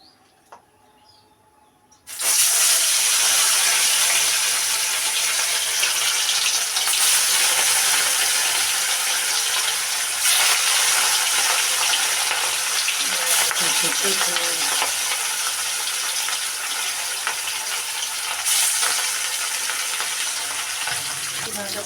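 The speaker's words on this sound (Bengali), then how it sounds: "এদিকে মাছ ভাজা চলছে," Turmeric- and salt-rubbed pieces of cut pona fish frying in hot oil, a loud, steady sizzle that starts abruptly after a quiet moment and carries on close up, with occasional spatters and utensil clinks.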